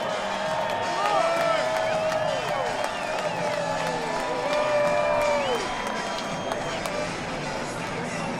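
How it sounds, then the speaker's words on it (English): A large grandstand crowd at Daytona International Speedway roars steadily as race cars pass, with a broadcast commentator talking over the sustained cheering and applause. "And a big roar from the crowd as they come past."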